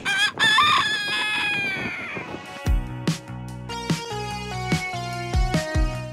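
Backyard chickens and a rooster crowing in a chicken yard, the crow loud and drawn out near the start, then clucking hens and fowl calls mixed with strong tonal background music.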